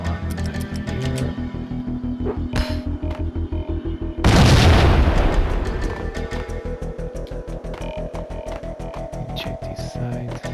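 A grenade blast in Max Payne erupts suddenly mid-clip as a loud, broad boom that decays over a couple of seconds, set against steady rhythmic game music or background pulsing before and after.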